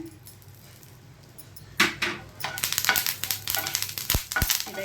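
Curry leaves fried in a pan for mint chutney: quiet at first, then a sudden loud crackle and sputter that keeps popping and hissing in close bursts, with no voice.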